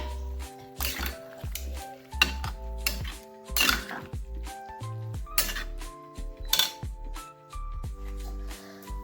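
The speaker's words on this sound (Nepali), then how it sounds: "यता पाक्दै मेरो अलिकति रातिको भाँडा बाँकी थियो धुनलाई, त्यो पनि मैले धुँदैछु।" Leftover pots and dishes from last night are washed in a home kitchen, with repeated clinks, clanks and scrapes of metal and crockery coming close and in irregular bursts.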